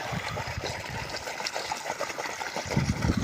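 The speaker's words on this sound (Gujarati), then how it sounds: "પંપમાં પાણી નાખી દેવું" Water poured into the tank of a farm sprayer pump in an orchard, a steady splashing gush running continuously at close range with no speech.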